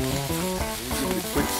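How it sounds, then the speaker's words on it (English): Soy sauce sizzling and bubbling on fried rice caramelizing in a hot pan, a loud continuous crackling hiss close up. "All right, then in goes the soy sauce."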